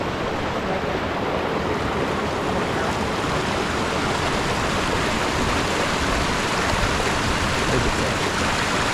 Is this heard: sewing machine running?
no